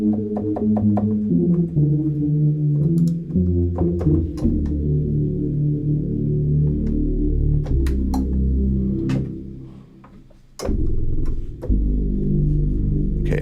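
A "Super 8" bass preset on a synthesizer plays a trance bassline as a run of sustained, stepping low tones with sharp percussive clicks, loud and close, briefly dropping out near the end.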